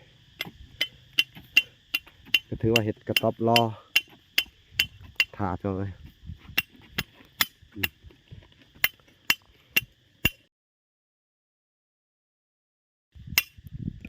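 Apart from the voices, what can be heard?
hammering nails into hut post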